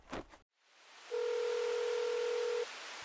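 An outgoing telephone call rings unanswered: after a short burst of sound, a single steady electronic ringback tone holds for about one and a half seconds, then cuts off into quiet line hiss.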